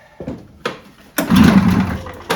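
A 1986 Arctic Cat El Tigre 6000 snowmobile engine with mufflers fitted sputters in two short bursts, then catches and runs roughly for about a second, loud and close.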